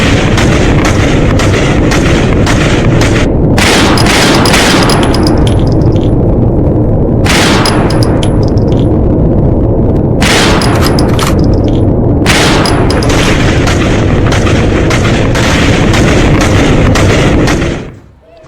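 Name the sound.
gunfire in street protest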